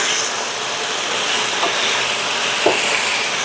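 Braised pork ribs sizzle and fry in a pan as they are turned, a steady close hiss with a couple of soft scraping touches and no talk.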